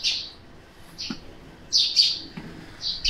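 Birds chirp outdoors during garden container planting, with short, bright tweets repeating at irregular intervals, some close and clear, others softer, with no talk over them.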